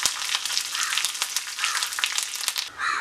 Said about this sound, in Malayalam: 1/2 ടീസ്പൂൺ കടുക് ഇട്ട് കൊടുക്കുക. 2 വറ്റൽമുളക്, അല്പം കറിവേപ്പില ഇട്ട് കൊടുക്കുക.